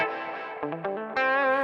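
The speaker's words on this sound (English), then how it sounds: "it's quite a clean sound, big reverb." Clean electric guitar recorded through a Kemper profile, drenched in big reverb: sustained chords and a few plucked notes ring out with long washy tails, fairly loud and alone.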